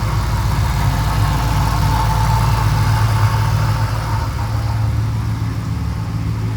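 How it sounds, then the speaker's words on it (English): Old Ford Thunderbird engine idling roughly with a loud, rumbling exhaust, steady and close, unhealthy-sounding with no talk over it. "you can hear the exhaust now"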